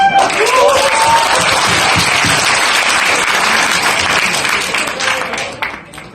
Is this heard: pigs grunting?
no